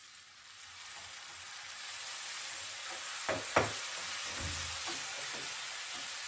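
Onions frying in a pan for a green lentil dish, a steady bright sizzle rising in the first seconds and holding, with a few soft knocks and stirring sounds.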